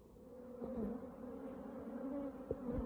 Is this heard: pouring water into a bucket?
no